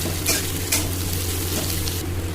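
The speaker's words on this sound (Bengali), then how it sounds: "আর একটু পেঁয়াজ। এবার একটু ভাজা হোক।" Steady oil sizzle of onions frying in a pan, a continuous crackling hiss with a couple of brief louder spatters, no voices.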